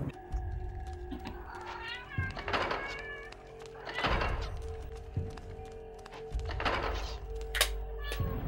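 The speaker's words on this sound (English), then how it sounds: "It was the cat. I'm gonna blame the cat." A cat meows several times, close and fairly loud, with drawn-out, wavering cries spaced a second or two apart over a low background rumble and occasional thumps.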